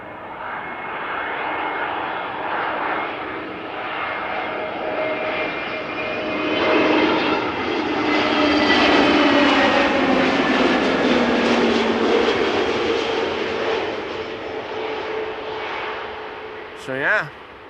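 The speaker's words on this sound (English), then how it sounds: "A320neo coming in from Jersey" An Airbus A320neo jet arriving from Jersey at Amsterdam Schiphol gives a steady, broad engine roar that swells toward the middle and then fades slowly, with a short sharper burst near the end.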